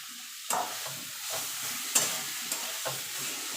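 Cauliflower mash with dried chilli and coriander being mixed in a hot pan, soft steady sizzling with a few distinct scraping strokes of the spoon against the pan.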